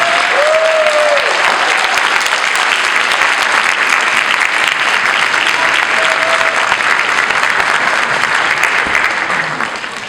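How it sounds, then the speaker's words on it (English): A big round of applause from a high school winter concert audience, loud and dense, sustained clapping from a large crowd that tapers slightly at the very end. "Give a big round of applause to Miss Linda Tomfield."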